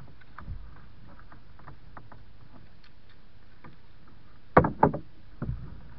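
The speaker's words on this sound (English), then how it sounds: "he's concentrating on paddling" A kayak paddles along a river: soft, sparse paddle dips and drips, then a few louder splashing strokes close by near the end, with quiet water background.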